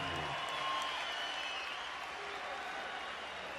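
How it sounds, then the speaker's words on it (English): Boxing arena crowd in Las Vegas, Nevada, applauding after a fight, a dense steady wash of clapping from many hands that holds evenly, with a faint voice mixed in. "how about a big round of applause for the effort out of these two warriors in the ring"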